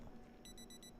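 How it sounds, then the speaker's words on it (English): An alarm clock rings faintly in the background, a short run of about four rapid high-pitched electronic beeps over a low room hum. "Where are all these fucking alarms? Who's got an alarm?"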